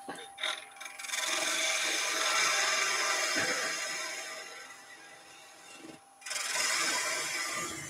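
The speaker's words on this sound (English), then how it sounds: "all we're doing is literally just shaving off the hold area" A small 12 mm skew chisel shaving wood on a spinning lathe makes a steady, bright rasping hiss that runs for several seconds, drops out briefly, then resumes.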